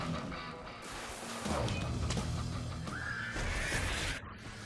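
A distorted demonic horse neigh and whinny rings out amid a loud, cluttered Brutal Legend game soundscape with crashes and rumble.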